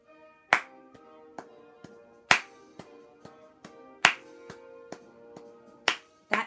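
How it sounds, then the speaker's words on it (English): Hands clapping in time to music, loud claps landing about every 1.8 seconds with lighter claps or ticks between them and soft sustained tones underneath, no talking. "When you're clapping your first beat, clap that one a little bit louder"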